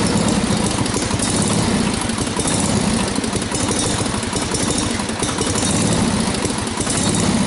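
An engine idles steadily close by, a continuous rough rumble that holds even throughout with no voices.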